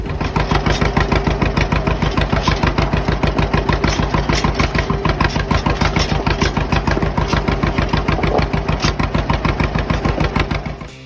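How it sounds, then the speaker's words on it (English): A small engine putt-putts at a steady idle, evenly pulsing firing beats running continuously and close by for around eleven seconds before easing off at the end. "Putt putt putt putt putt putt tractor."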